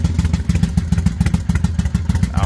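A Kawasaki Vulcan motorcycle idling close by, its engine pulsing in a steady, loping rhythm with a slight mechanical clatter, loud and alone.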